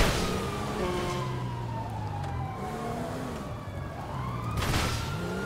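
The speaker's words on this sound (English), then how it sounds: "there's the sirens" Wailing emergency sirens, likely from a fire truck, sweep up and down in a GTA 5 game, several overlapping tones rising and falling steadily at moderate loudness with no one talking over them.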